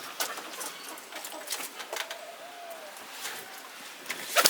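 Farm pigeons coo softly outdoors during a snowstorm, a few faint low calls rising over a constant hiss of wind and blowing snow, with scattered small knocks and rustles nearby.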